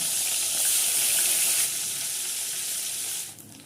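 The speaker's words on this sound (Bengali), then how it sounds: "এই মাছগুলো হালকা করে ভেজে নিলাম।" Fish frying lightly in oil in a pan for a Bengali yogurt fish dish, a steady close hiss of sizzling that fades slightly midway and drops out near the end, with no talking.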